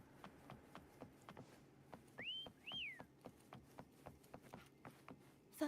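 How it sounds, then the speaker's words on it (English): A short two-note whistle rises and slides in Wuthering Waves, heard over steady clip-clop footsteps that tap on in an even rhythm throughout, all fairly quiet. "Try whistling."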